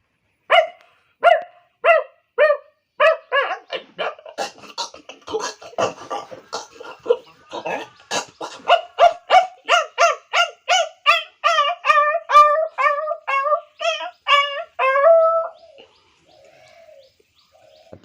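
A man vocally imitates two dogs fighting: a rising run of rapid, loud barks and yelps, becoming frantic snarling yips near the end before fading to faint whimpers.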